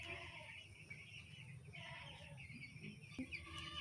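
Chickens at a village home cluck on and off at close range over steady background noise, with short repeated calls.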